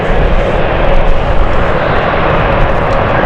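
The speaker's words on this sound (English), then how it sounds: "The E2 is now back here, it's on the runway, it's going to do a 360 turn." Embraer E2 jet taxiing and turning on the runway at London City Airport on a stormy night, a steady, loud broadband engine roar with low rumble held throughout, no talk over it.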